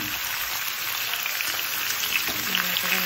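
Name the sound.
dried chillies frying in a pan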